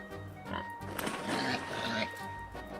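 A pig in the game Vintage Story gives several short, rough grunts and oinks at close range over a steady hum of background tones.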